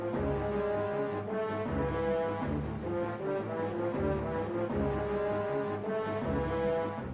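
First-phase boss music for Argorok from the video game Twilight Princess plays as a steady instrumental loop of repeated low pulses under layered melodic tones, dense and unbroken with no voices.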